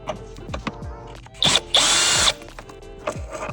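A power tool spins out a T30 bolt from the lower airbox of a BMW F10 M5, two sharp high bursts of whirring, the second longer, amid light clicks and handling noises close by.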